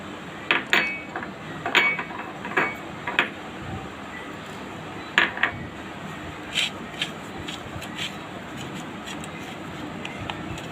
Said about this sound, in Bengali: মাছগুলোর সাথে ভালো করে মশলাটা আমি মিশিয়ে নেব